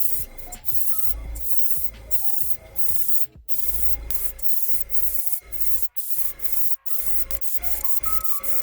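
Airbrush spraying chrome paint onto a 3D printed helmet, heard as repeated short hissing bursts that start and stop, mixed with background music.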